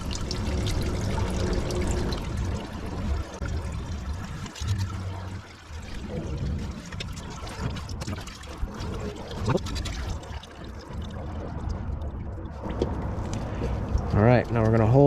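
CVT transmission fluid drains steadily from a Nissan Versa Note or Sentra into a pan, a continuous pouring trickle running under background noise.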